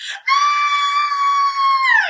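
A person screams during a children's alligator song, one long sustained high-pitched scream that holds steady and drops off at the end, loud and close.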